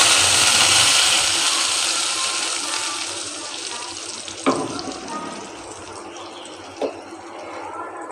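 A steady broadband hiss of a tempering sizzling in hot oil for sarson ka saag, fairly loud at first and easing off, with a couple of sharp clinks near the end.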